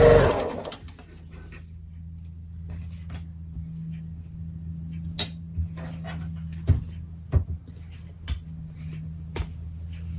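A sewing machine runs steadily, stitching quilt pieces into side units, its motor a constant near hum with a few brief clicks and handling taps over it; no one talks.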